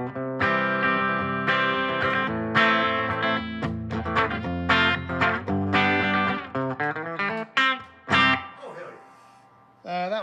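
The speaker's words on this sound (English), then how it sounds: "this one sounds like this with some cowboy chords" Gibson Custom Shop Historic SG '61 Standard electric guitar with a korina body, played on the bridge pickup with ringing open cowboy chords, strummed and let ring with a bright, slightly driven tone, close and steady, fading at the end.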